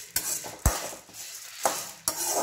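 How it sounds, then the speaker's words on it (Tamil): Coriander seeds and spices roast in oil over a medium flame for sambar powder, with a spoon scraping and tapping against the pan in several distinct strokes over a faint background sizzle. "மீடியம் ஃப்ளேமில் வச்சு வறுத்துக்கோங்க"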